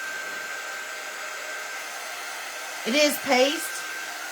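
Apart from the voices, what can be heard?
dryer blowing to dry paint on a lampshade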